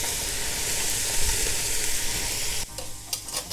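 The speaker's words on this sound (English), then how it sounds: "I'm going to add my carrots." Carrots hit a hot pan with a loud, close sizzle and some stirring, cooking for Spanish lentils with chorizo; the frying hiss drops off suddenly near the end, leaving quieter crackles.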